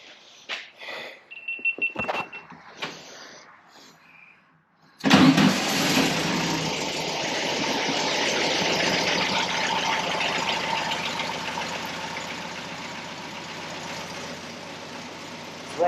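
A 1964 Volkswagen Beetle engine fires up after some fiddling clatter and settles into a steady, close idle that runs evenly to the end.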